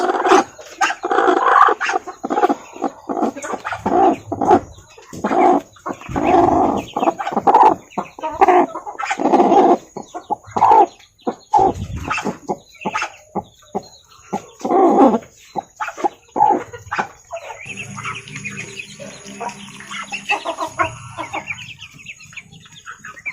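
Free-range village chickens cluck and call close by on a small backyard plot, repeated bursts of loud clucking with short gaps, fading to quieter background clucks and a faint buzz toward the end.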